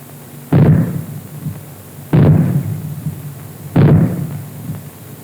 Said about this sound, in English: When fallout is expected, you will hear 3 bangs in short succession, like this.